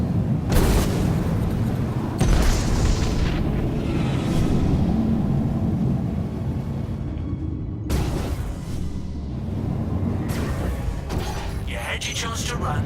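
A missile launches and explodes during Star Citizen space combat, with heavy booming bursts over a constant loud rumble and a voice talking underneath.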